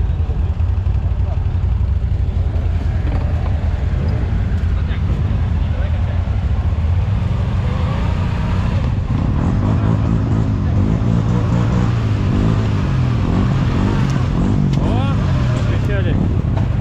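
A CFMoto 1000 quad bike engine revs and strains on a slope, struggling to climb a dug-out step on worn tires, a steady loud drone swelling in bursts, with people talking over it.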